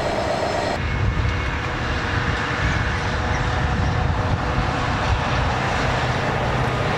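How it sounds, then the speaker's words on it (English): A Class 66 diesel locomotive pulls three dozen loaded coal wagons carrying about 1,500 tonnes away from Hunterston, accelerating with a loud, steady, continuous roar and rumble throughout, no voices. "Full to capacity, and the Class 66 accelerates away from Hunterston."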